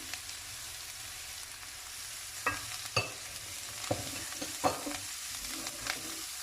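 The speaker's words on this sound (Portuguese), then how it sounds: "Vou colocar o coentro agora nessa fritura aqui." Cilantro frying in a pan with a steady background hiss, punctuated by a few sharp clinks and scrapes of stirring.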